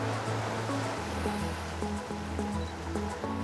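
Ocean waves wash onto an island beach, a steady broadband surf rush that is fairly loud and continuous, with low droning tones running underneath.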